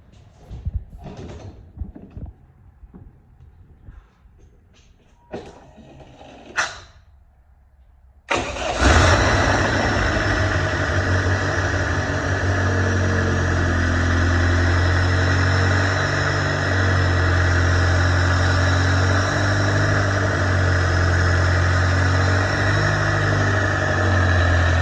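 A 1987 Dodge Daytona Shelby Z that sat for almost a year gives a few scattered clicks and cranking sounds, then catches with a sudden loud start and settles into a steady, close, rumbling run.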